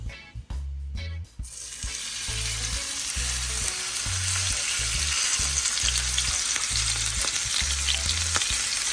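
A steak hits olive oil in a cast iron skillet and a loud, continuous sizzle bursts up and holds steady, close and intense. Low rhythmic thumps sit beneath it, and there is no speech.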